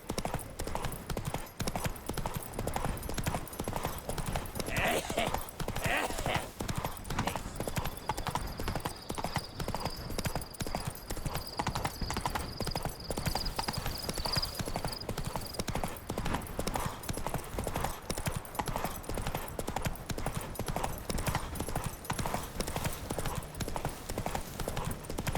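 Horse hooves clip-clopping in The Witcher 3: Blood and Wine, a continuous steady trot over ambient game sound with a brief whinny-like tone partway through.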